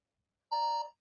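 A single electronic beep marking the end of a ten-second quiz countdown timer, one clean tone of about half a second standing alone against silence.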